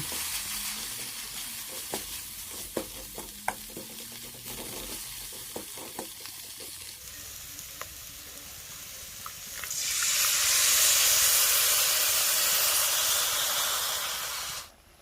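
Gravy bubbling in a pan sizzles steadily up close. Scattered light clicks and taps of a spoon come in the first half, then a louder, denser hiss of steam swells for the last few seconds. Nobody speaks.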